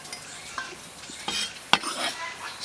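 Utensils scrape and clink against a bowl while tossing shredded cucumber with garlic, chili and seasonings, a soft intermittent stirring with one sharper tap partway through, close and fairly quiet.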